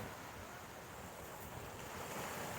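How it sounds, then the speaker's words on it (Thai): Strong sea waves at Laem Kham viewpoint in Sattahip, heard as a steady, dense roar of surf with wind rushing over the microphone, continuous and loud with no talking. "แต่วันนี้ คลื่นค่อนข้างจะแรง"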